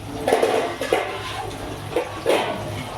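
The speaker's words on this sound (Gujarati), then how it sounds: "થોડું પાણી નાખી દઉં." Water poured into a pan of brinjal and potato curry, a few short splashy bursts of liquid hitting the pan, close and moderately loud over a steady background hiss.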